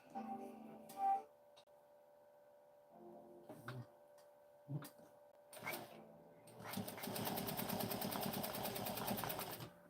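A sewing machine stitches along folded fabric being basted in place, a few short isolated bursts giving way to a steady, continuous run of rapid mechanical stitching near the end, with no talk.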